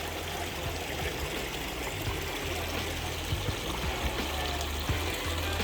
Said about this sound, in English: It's a beautiful creek down here.